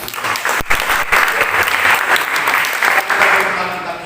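A church congregation gives sustained applause after a sermon on humility, steady clapping filling the room for the full four seconds with a few louder bursts.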